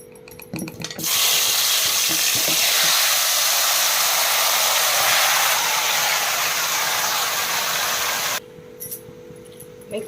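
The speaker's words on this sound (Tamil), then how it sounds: "எண்ணெய் நல்லபடியாக சூடாயிடுச்சு. நம்ம இப்போ தக்காளியை ஆட் பண்ணுவோம்." Tomatoes hitting hot gingelly oil in a thick-bottomed kadai, a sudden loud, dense sizzle that holds steady for several seconds before dropping away, with clinking before and after.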